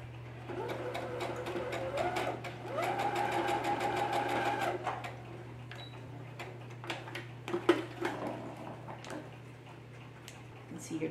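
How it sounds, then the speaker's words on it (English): A sewing machine runs a quarter-inch top stitch along a fabric mask seam between two darts, a steady mechanical whir for a couple of seconds, followed by scattered clicks and handling taps of fabric and machine. "I'm going to sew a quarter inch top stitch from this dart down to the other dart"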